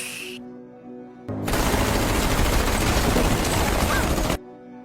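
Sustained burst of machine gun fire in a film scene as a row of men is gunned down, loud and continuous for about three seconds before cutting off abruptly.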